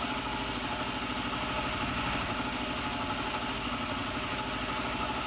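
A Yamaha WR 250 R motorcycle engine idles steadily during an oil change, a loud, even mechanical rumble that runs unbroken throughout.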